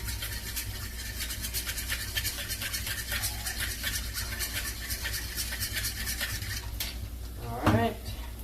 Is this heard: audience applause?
no